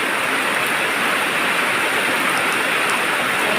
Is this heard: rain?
yes